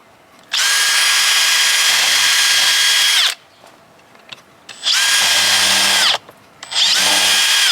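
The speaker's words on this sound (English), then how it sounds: "So all I'm gonna do with this one is drill a hole through." A power drill whirs in three bursts drilling a hole through a wheelbarrow planter, a long run followed by two shorter ones, with quiet pauses between, close and loud.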